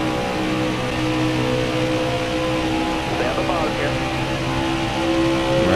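Race car engine in the NASCAR Heat 4 video game during a championship career-mode race, a sustained droning whine with steady harmonic tones that shift slightly as the car runs, continuous and fairly loud throughout.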